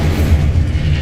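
A short, loud, booming burst of fire from the Incendio spell in Hogwarts Legacy, a heavy low whoosh and crackle lasting about a second.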